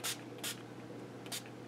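Tattered Angels chalkboard Glimmer Mist sprayed from a small pump bottle, three short, faint hissing spritzes in quick succession over quiet room tone.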